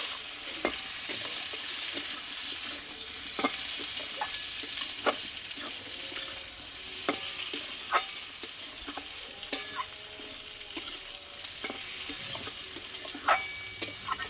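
A spoon stirs potato curry with chopped coriander leaves in a pan, making soft frying sizzle and repeated scraping clicks that come through clearly without any talk.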